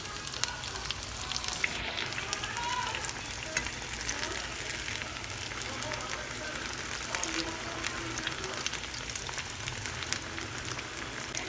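Jamaican saltfish fritters sizzle and crackle steadily in a frying pan, a continuous close hiss of hot oil with no voices.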